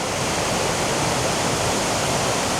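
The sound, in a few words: waterfall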